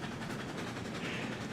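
Steady train rumble from a locomotive in the railroad game Railroads Online, a continuous low roar with a faint rhythmic rattle, loud and unbroken.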